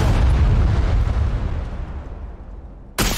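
A C4 charge detonates in a multiplayer shooter video game, giving a loud, close, deep boom that rumbles and fades over a few seconds, followed by a sharp crack at the end.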